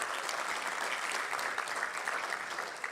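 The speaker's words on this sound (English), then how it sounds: "a round of applause for them too" A conference audience claps steadily and fairly loudly for a few seconds, a dense patter of applause with no voices standing out.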